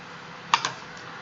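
Two quick computer keyboard keystrokes close together, clicking sharply over a faint steady background hum while show commands are entered for a Cisco router in Packet Tracer.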